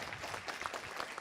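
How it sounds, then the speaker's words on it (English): Audience applause at a learning technology conference as the speaker is welcomed to the stage, a steady dense patter of many hands clapping filling the short stretch without a break. "I always love when people clap before I've said anything"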